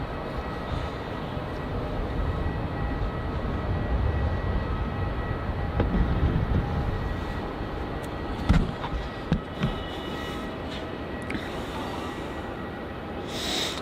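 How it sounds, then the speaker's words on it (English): An Air New Zealand airliner departs runway 34 at Melbourne Airport, its engines a sustained, broad roar heard from a distance, with a few sharp knocks and clicks near the microphone. "I was NZ124 departing off to Auckland, an awesome runway 34 departure"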